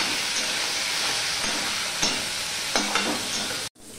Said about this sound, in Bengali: দিয়ে ফুলকপিটা আমি ভেজে নেব